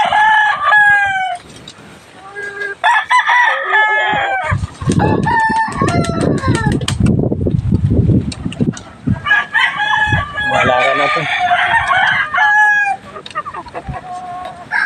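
Chickens cluck steadily nearby at a chicken coop while a rooster crows loudly several times, with a short stretch of a person talking in the middle.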